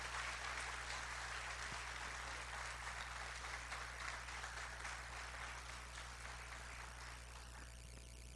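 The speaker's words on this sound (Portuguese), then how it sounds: "aplaudindo ao Senhor Jesus pela vida deles" A church congregation applauds steadily for about eight seconds, a dense wash of clapping with a low steady hum beneath it that tapers slightly toward the end.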